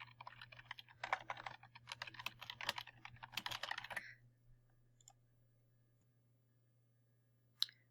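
Keys clatter in a quick, uneven run of typing on a computer keyboard for about four seconds, close and clear, then stop, leaving near silence broken by one final sharp click.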